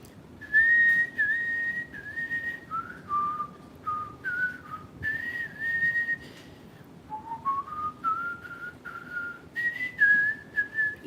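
A person whistles a wandering melodic tune in short sustained phrases with pauses between them, clear and close, over a faint background hum like a fan.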